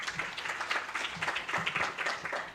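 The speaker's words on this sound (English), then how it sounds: "Can we give a round of applause to Daniel Castro" Applause from a forum audience at the Africa Innovation & Technology Forum, fairly faint, with individual claps audible in an uneven, scattered rhythm over a couple of seconds.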